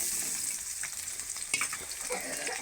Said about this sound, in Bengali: এবার কড়ার মধ্যে দিয়ে দিচ্ছি পেঁয়াজ কুচি